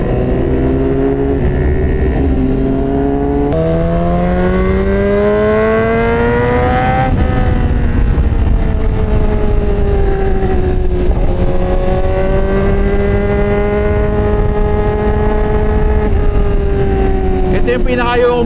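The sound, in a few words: several motorcycles riding together downhill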